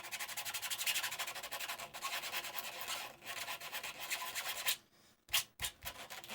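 A 3D-printed part is sanded by hand with coarse 80-grit sandpaper, a close, steady rasping scrub that continues in rapid strokes, then breaks off briefly and resumes with a few last rubs.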